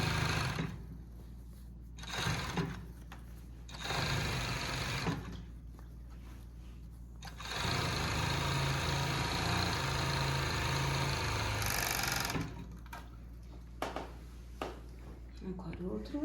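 An overlock serger stitches and trims blouse fabric in bursts, its fast motor hum rising and stopping between pauses as someone talks over and between runs, fabric being guided around curves.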